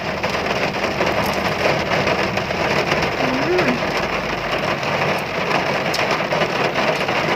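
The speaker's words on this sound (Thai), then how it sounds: "ดูนอกกำลังฝนตกเลยค่ะ" Steady rain falls outside during an evening walking-street food market, a constant hiss of drops on surfaces filling the whole stretch with even, unbroken texture.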